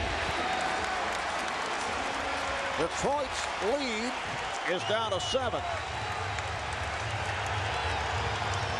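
Crowd at a Pistons–Bucks basketball game in an arena, a constant roar of cheering and applause under a commentator's voice.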